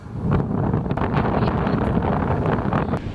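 Strong, steady Hurricane Dorian wind in central Florida, about 20 gusting to 30, roars and buffets the microphone without a break, a dense rushing noise that swells slightly in gusts.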